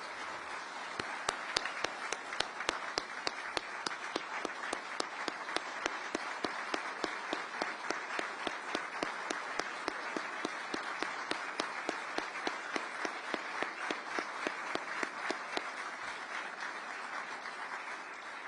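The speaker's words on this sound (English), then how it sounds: "I want to give everybody a round of applause" An audience claps for Officer Harry Dunn at a political discussion event, settling into a steady, rhythmic unison beat of sharp claps, fairly distant and even, sustained for a long stretch.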